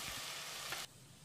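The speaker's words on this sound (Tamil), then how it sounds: "தக்காளியை மசிகிற அளவுக்கு வதக்கிடலாம்." Tomatoes sizzle and crackle in a hot pan, a soft, steady frying hiss that drops off sharply near the end.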